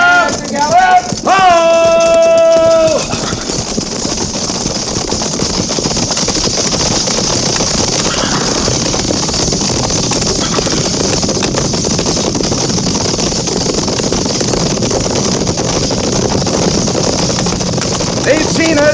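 Radio drama cavalry charge: a company of horses breaks into a gallop, a dense, steady rumble of hooves and rattle that runs continuously at full loudness after shouted commands at the start.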